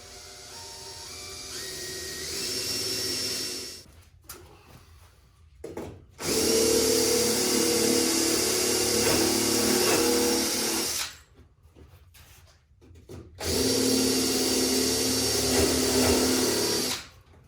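A power drill bores holes through a 2019 Mustang GT hood for hood pins, running in three long whining bursts separated by short pauses, close and loud, with no talking.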